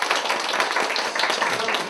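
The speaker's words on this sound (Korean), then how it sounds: "이 시점에서는 박수가 나와야 되는 거 아니에요?" Congregation in a church clapping together, a dense, steady patter of many hands close by that carries on without a break for the whole stretch, with no voices over it.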